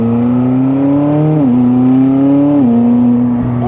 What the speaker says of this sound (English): That is a good sounding V8 engine.